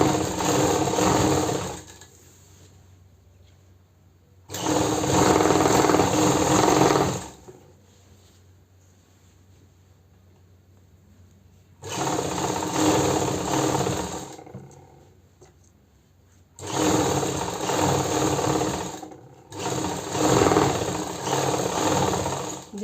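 A sewing machine stitches a salwar lining in four loud bursts of rapid whirring, with short quiet gaps between runs and no talking.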